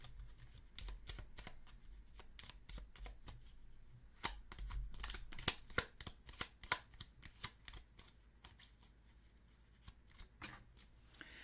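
Tarot cards being shuffled close up, a soft rapid riffle that breaks into a run of crisp slaps and taps as the cards settle, faint and with no talking.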